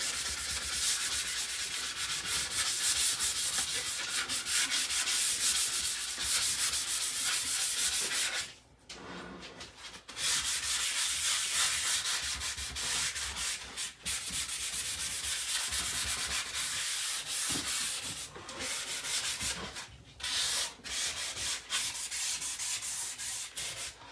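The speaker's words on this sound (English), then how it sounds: "now I need to just sand on the inside here" Steady hand sanding on wood: a continuous dry scraping rub, close and fairly loud, with one brief pause midway before the strokes resume.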